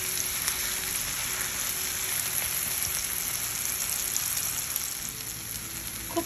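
Raw green banana pieces fry in a pan over low heat, a steady close hiss and crackle of oil that continues evenly with no voices.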